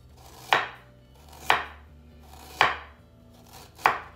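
Fresh ginger chopped on a board for a pork marinade: four sharp, crisp knife strikes spaced about a second apart, close and clear over a quiet kitchen background.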